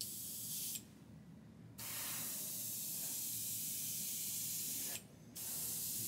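An airbrush spraying thinned Tamiya X7 Red paint at 8 psi onto primed styrene, a steady close hiss broken by two short pauses as the trigger is released.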